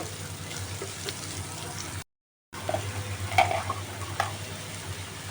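Chopped onions and green chillies sizzle steadily in a hot pan, a continuous close frying hiss with a brief silent gap and small crackles.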